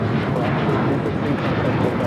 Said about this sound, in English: This is Alaska Airlines 1315 taking off to Portland on the 737-900